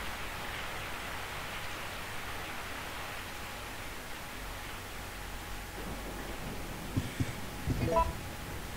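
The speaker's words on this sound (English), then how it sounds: "I woke up to the sound of falling rain." Steady falling rain hisses as a soft, even wash throughout a Resident Evil 3 scene, with a few faint knocks and clatters near the end.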